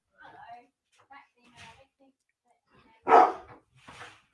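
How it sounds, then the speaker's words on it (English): A big dog barks at someone at the door, one loud close bark followed by a softer one, amid scattered quiet talk. "This is why I have a really big dog."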